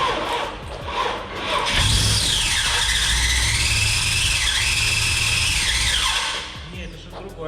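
A harsh, high-pitched mechanical squeal wavers up and down over a running engine spun with its drive belt removed, loud and close for several seconds, then cuts off.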